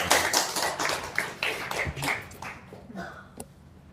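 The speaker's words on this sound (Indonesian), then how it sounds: "Boleh tepuk tangan buat Kang Abu ya." An audience claps for a speaker named Kang Abu at a religious talk, a brief burst of close hand claps that thins out after a few seconds.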